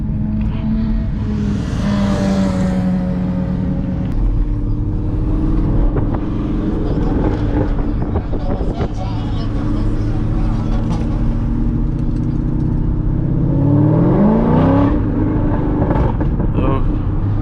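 C6 Corvette with wide 345 rear tires accelerating hard in second gear at around 2,000 RPM and spinning the tires: a loud, continuous engine drone with rising pitch sweeps, heard from inside the car.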